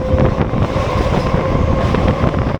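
The Sealdah–Gede local train sits at a station platform, heard as a loud, dense rumble with rattling and wind buffeting close to the microphone throughout.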